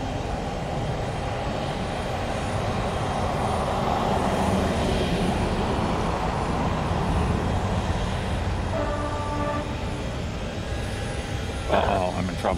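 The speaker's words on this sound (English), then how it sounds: "we've got a 757 rocket ship on short final" A Boeing 757 on short final approach at Tampa airport gives a broad, steady jet roar that swells toward the middle and then eases, with a brief radio chatter near the end.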